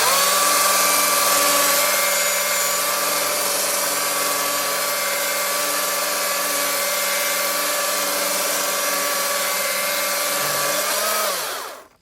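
A Stihl MSA 220 C battery electric chainsaw with a slightly dull chain cutting into a hardwood log gives a loud, steady high whine that runs without a break. It then spins down and cuts out near the end.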